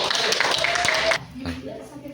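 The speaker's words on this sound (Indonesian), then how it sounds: "Tepuk tangan untuk kelompok" Brief classroom applause for a student group, bright dense clapping that stops abruptly about halfway, followed by quieter room noise and a voice.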